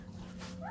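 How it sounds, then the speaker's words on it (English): Puppies give a short, close whimper that rises into a thin yip, with low room murmur underneath. "This is puppies."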